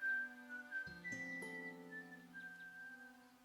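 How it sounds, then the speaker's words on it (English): A steady whistled tone with a few pitch steps, heard alone and fairly clear in the video game Broken Sword 5: The Serpent's Curse, lasting a few seconds without speech. "Hearing some sort of a whistle."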